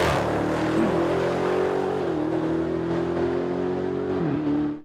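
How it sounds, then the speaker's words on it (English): A Dodge Demon launches hard from a dead stop, its engine a loud, sustained near roar that holds a high pitch through a gear change before cutting off abruptly. "here is the sound of it taking off from a dead stop."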